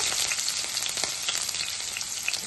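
Chopped onions, green chilies and cumin seeds sizzling in hot oil for egg bajji, a dense, continuous crackling fry with small popping bursts, close and fairly loud, no talking.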